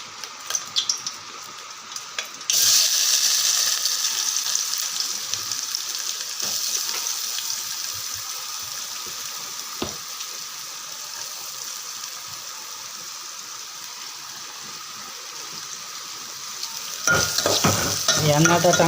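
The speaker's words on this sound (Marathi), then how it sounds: "कांदे आणि टोमॅटो आणि मसाला टाकून फोडणी देऊ." Onions, tomato and spices sizzle steadily as they fry in hot oil for a bitter gourd tempering, a loud continuous hiss with occasional stirring and a brief utensil clatter near the end.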